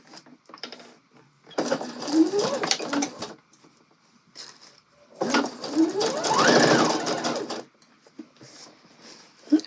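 A sewing machine stitches the gathered skirt of an asymmetrical angled dress in two close, steady runs of rapid whirring, each lasting about two seconds, with quiet pauses and soft handling noise between them.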